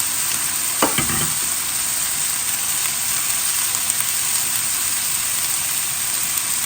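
Chicken and shrimp fried rice with spring onions stir-fried over high heat, a steady loud sizzle throughout with a brief burst of utensil scraping near the start.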